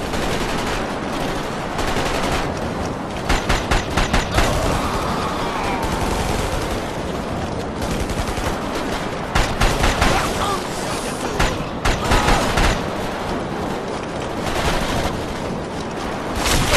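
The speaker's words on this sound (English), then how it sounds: "Raheel's forces putting heavy fire on the UN troops" Heavy automatic gunfire from an enemy assault on UN troops in the video game Ghost Recon Summit Strike, a dense, sustained stream of rapid bursts with sharper volleys standing out amid continuous battle noise.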